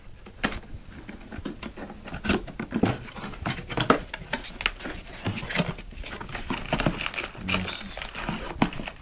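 Seal tape being torn off the cardboard packaging of a Western Digital Elements 1TB external hard disk: close crinkling, ripping and rustling in irregular bursts, with someone talking over it.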